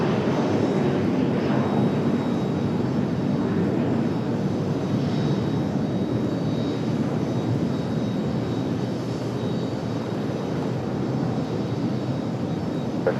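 An airliner at Raleigh-Durham airport gives a steady, broad engine roar, loud and sustained throughout with no talk over it.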